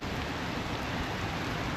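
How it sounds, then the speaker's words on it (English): Steady storm rain hisses down in a dense, even patter in The Villages, Florida, with no breaks or voices. "So right on cue, it started raining."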